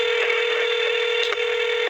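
A steady electronic telephone tone sounds on a call line while dialing back a number, a continuous, even hum lasting about two seconds before it cuts off, with no voices.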